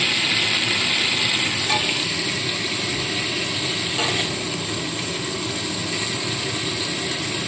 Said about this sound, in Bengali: কপিগুলো ভাজা হয়ে গেছে